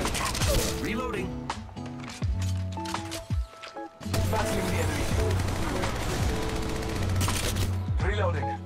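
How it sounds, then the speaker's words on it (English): Rapid gunfire in Apex Legends Mobile, loud bursts of automatic shots with brief pauses and mechanical reload clatter, under game music tones and speaking voices. "Opening fire on the enemy"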